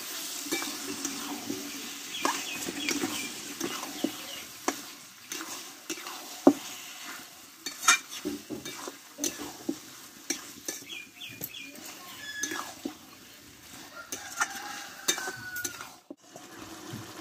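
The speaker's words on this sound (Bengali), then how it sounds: "দিয়ে মশলার সঙ্গে ভালোভাবে কষতে থাকবো আমি।" Marinated chicken stir-fried with spices in a pan, heard as a steady sizzle broken by repeated scraping and clinking of a utensil against the pan, with faint murmuring in places.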